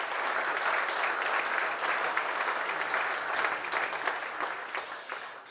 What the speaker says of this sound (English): So I think a round of applause for our panel,